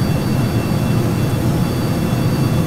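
Dense, loud, unbroken roar of space shuttle rocket engines at lift-off in Kerbal Space Program, five engines firing together as a steady low rumble with hiss, no voices.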